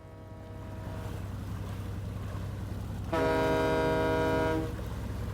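Ferry crossing the water near Portsmouth, a constant low engine drone with wind and water wash, plus a loud horn toot sounding for about a second and a half partway through.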